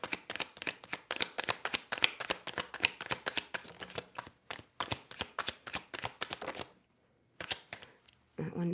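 Tarot cards are shuffled in rapid riffling bursts, a dense run of crisp flicks that pauses briefly, resumes, then falls silent. A voice speaks over part of the shuffling.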